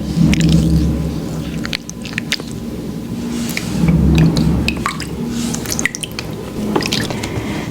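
Wet hands rub foaming face cleanser with water over the skin, giving soft, close squishing and slick lathering sounds with scattered tiny drips and pops, steady and unhurried with no talking.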